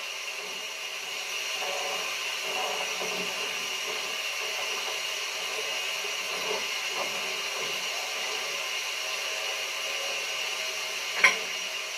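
Pork chops sizzle in a pan for North Carolina style chops with gravy and onions, a constant dense hiss with small pops and crackles and one sharp snap near the end.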